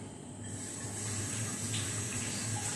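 Tap water runs steadily into a kitchen sink while a jug is washed, a continuous close hissing gush with no talking.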